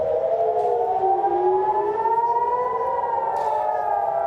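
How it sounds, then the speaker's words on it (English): Wailing air raid sirens rising and falling in long overlapping tones, loud and continuous, with no talking. "as we listen to those air raid sirens, Alistair"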